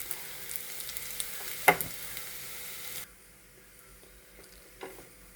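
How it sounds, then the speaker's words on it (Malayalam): Onions, cashews and raisins frying for a ghee rice dish: a steady close sizzle with one sharp clink, then the hiss drops away to a quiet, faint bubbling for the final seconds. "ഉള്ളി അണ്ടി മുന്തിരിങ്ങ എല്ലാം ഫ്രൈ ആയി കഴിഞ്ഞ്"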